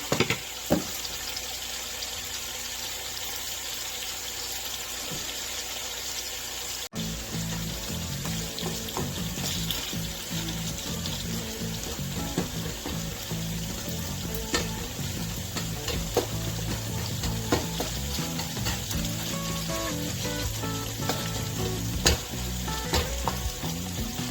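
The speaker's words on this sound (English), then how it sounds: "The rice is still trying to come to a boil, and then we'll back it off and let it simmer." Rice in a pot working up to a boil for a wet burrito recipe, a steady close bubbling and sizzling hiss that runs unbroken with no talk.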